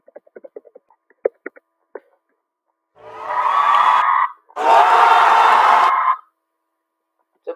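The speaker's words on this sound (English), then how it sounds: "So basically cheering" A cheering crowd sound effect from the Scratch sound library plays as two loud bursts of roaring cheers and shouts, preceded by a few faint clicks.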